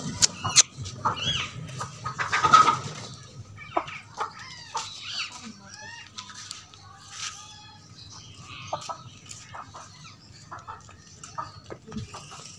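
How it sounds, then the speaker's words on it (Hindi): Chickens, including a black hen, cluck and squawk intermittently at close range, with scattered rustling, a brief voice, and a low steady hum underneath, in a backyard in Multan, Pakistan. "यार एक तो मुर्गी आई जा रही है बार बार यहाँ पर"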